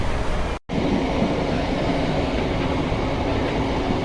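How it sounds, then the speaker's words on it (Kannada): A MEMU commuter train running from Tumakuru toward Bengaluru, a loud continuous rumble and roar of the moving carriages heard from on board, steady throughout after a brief cut near the start. "ಇದು ನಮ್ಮ ತುಮಕೂರಿಂದ KSRವರೆಗೂ ಹೋಗೋ, ಅಂದರೆ ಕ್ರಾಂತಿವೀರ ಸಂಗೊಳ್ಳಿ ರಾಯಣ್ಣ ಮೆಟ್ರೋ ಸ್ಟೇಷನ್ವರೆಗೂ ಹೋಗೋ ಮೆಮೋ ಟ್ರೈನ್."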